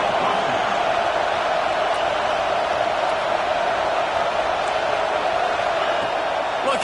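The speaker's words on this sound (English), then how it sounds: "This crowd knows when to bring it." Football stadium crowd at an Ohio State versus Michigan game, a dense, loud, continuous roar of cheering with no breaks, heard from within the crowd.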